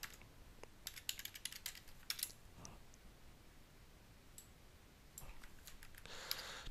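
Typing on a computer keyboard while working in a spreadsheet, with faint, irregular clusters of key clicks and pauses between bursts.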